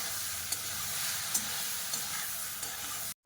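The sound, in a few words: frying boiled potatoes with spices in a pan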